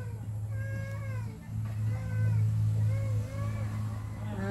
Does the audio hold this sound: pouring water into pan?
no